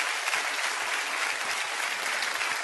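An audience at a live comedy monologue claps steadily, a dense, even wash of applause from a full crowd that holds at the same level throughout.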